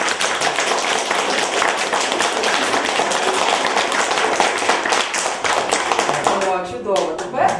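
A children's audience claps along on cue during a lively Ukrainian event, the dense rhythmic patter of many hands filling the room without pause, loud and close, with voices mixed in.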